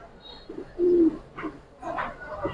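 A pigeon coos briefly amid background chatter and general noise at a rooftop pigeon sale; the soft, low cooing stands out for a moment, moderately close.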